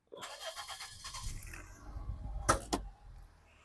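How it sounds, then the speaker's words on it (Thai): A 2004 Toyota Altis 1.6E engine cranks with a whirring starter for a couple of seconds, catches with a thump, then settles into a low idle. "สตาร์ททีเดียวติดนะครับเครื่องเดินนิ่งเรียบนะครับ"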